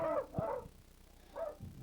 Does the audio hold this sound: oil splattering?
no